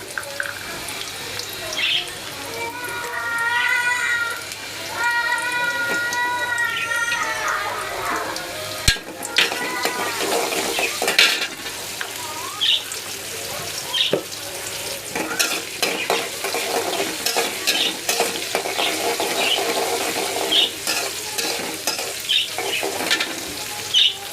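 Potatoes fry in oil in a home kitchen, a steady sizzle with stirring and scraping of the pan, a brief clatter partway through, and faint voices in the background.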